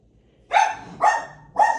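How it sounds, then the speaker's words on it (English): Three loud barks from pet dogs indoors, evenly spaced about half a second apart, sharp and close, with a quiet room around them. "Sorry about my dogs."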